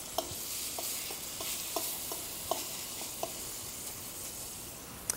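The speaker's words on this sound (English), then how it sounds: "Now you can hear that pan is nice and hot." Steak sizzling in a hot pan: a steady bright hiss runs throughout, punctuated by a series of light clicking taps at irregular intervals; no voices.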